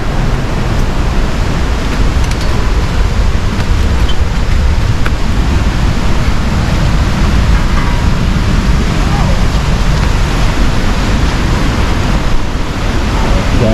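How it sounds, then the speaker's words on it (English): River water rushing loudly near a cave, a dense, continuous roar of flowing water close to the microphone with wind buffeting mixed in. "Guys, you hear the water"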